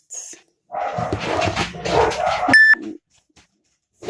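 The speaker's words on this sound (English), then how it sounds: "Dogs are going crazy." Dogs bark excitedly in a loud burst, followed by a string of electronic notification beeps, then near silence with a small whimper.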